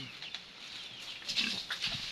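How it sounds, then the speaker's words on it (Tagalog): Large, well-fed farm pigs squabble in a pen, giving short high squeals and grunting bursts that build toward the end, fairly close against a quiet background. "Di ba guys, ang lalaki ng baboy guys, ang lulusog."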